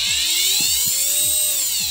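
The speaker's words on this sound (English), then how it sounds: "the alternative of using brushless motors and propellers is a lot more" Brushless motors spin propellers on a model rocket test rig, a loud high-pitched whine with pitch rising and falling and a rhythmic low throbbing underneath.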